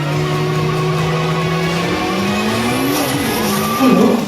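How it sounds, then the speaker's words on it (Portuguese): The world's fastest tractor, a modified British record machine, races past at speed: a loud, close engine tone climbing and shifting in pitch, with a rougher burst near the end. "Ele decidiu correr em um trator."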